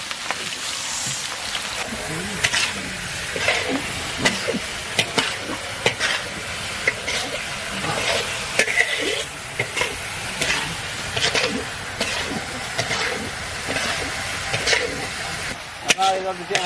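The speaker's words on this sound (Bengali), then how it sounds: "ডালের তেল গরম হয়ে গেছে, ডালের মশলা নিয়ে নিয়েছি, অর্থাৎ তেলের ফোড়ন, গোটা জিরা, তেজপাতা, শুকনো লঙ্কা এবং কাঁচা লঙ্কা কুচি। দিয়ে দিলাম ডাল।" Hot oil with whole cumin, bay leaf, dried red chillies and chopped green chillies sizzles steadily as dal goes in, with repeated stirring scrapes in the pan and a voice talking over it.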